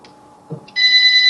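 A phone rings with a steady, bright electronic tone that starts abruptly partway through and continues loud, after a soft thump and quiet room noise.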